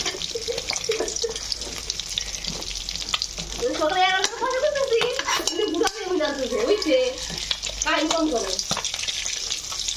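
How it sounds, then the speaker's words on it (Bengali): Fish frying in a pan, a loud, steady sizzle and spatter heard close up, with a person talking over it for much of the time. "আমি এখন মাছ এখন কীভাবে ভাজতেছে দেখেন"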